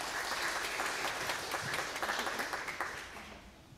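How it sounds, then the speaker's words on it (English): A church congregation at Sunday worship applauds, a fairly soft, steady patter of many hands that grows more distinct in the middle and tapers off toward the end. "Round of applause again"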